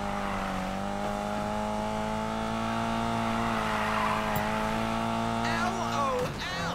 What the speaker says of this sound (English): Oh, yeah, we drifting now.